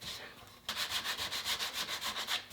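A wooden Ruger 44 carbine stock is sanded with a soft, bendable sanding stick, giving about a dozen steady rhythmic back-and-forth rasping strokes, close and fairly loud, after a short quiet start.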